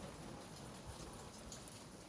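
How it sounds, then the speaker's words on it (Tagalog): Steady rain falls in Argentario, a dense, even patter of drops hitting surfaces close by, with no voices over it. "Ay nako, panay na ng ulan"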